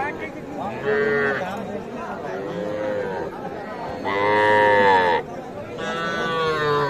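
Calves and cattle moo again and again at the Aftabganj livestock market in Nawabganj, Dinajpur, with long, loud, drawn-out calls and people talking nearby.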